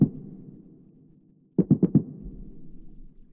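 A snare one-shot programmed in FL Studio with no pitch animation, struck about four times in a quick burst of sharp, bright hits after a fading tonal tail and a short pause, with a low rumble lingering underneath.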